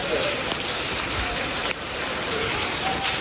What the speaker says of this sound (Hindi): ज़्यादा बारिश भी ख़तरनाक होती है ना